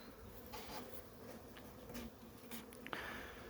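Honey bees buzz softly around the entrance of a wooden hive being readied for winter, a faint continuous drone with a few brief louder passes near the end.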